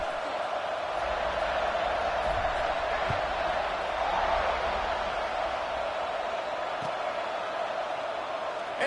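A football stadium crowd roars steadily as a broad, even wash of distant cheering and murmur, with occasional thuds and a commentator's voice faintly underneath.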